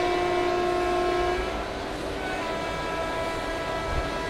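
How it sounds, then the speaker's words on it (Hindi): A locomotive horn sounds in the Indian Train Simulator game at Ratlam Junction, a steady tonal blast lasting about a second and a half before cutting off, leaving a low rumbling train background. "चलिए एक हॉर्न बजा के निकल लेते हैं अब यहाँ से"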